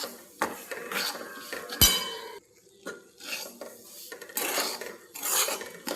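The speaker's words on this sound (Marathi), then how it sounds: "आता याला छान आपण असं मिक्स करून घेऊयात आणि छान असं भाजून घेऊयात." Semolina being stirred and roasted in ghee in a metal pan for rava sheera, with a spoon scraping and clinking against the pan in irregular bursts, close and moderately loud, with no talking.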